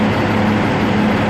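A 1997 Peterbilt truck engine idling steadily, a constant low diesel rumble with a droning hum, close and loud with no pauses.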